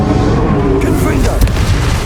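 A Confringo blasting spell explodes in Hogwarts Legacy: a loud, dense rumble of booming blasts fills the whole stretch, with voice-like game sounds mixed into the roar.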